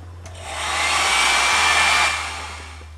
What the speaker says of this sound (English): I use this hair dryer here to do that